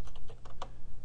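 A command being typed on a computer keyboard, a short burst of several crisp, close key clicks in quick irregular succession with no talking.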